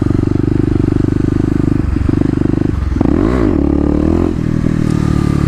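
A Kawasaki KLX250 engine drones loud and close in second gear during wheelie practice at a mall, then surges through a sharp rev partway through as the front wheel lifts before settling back to a steady hum.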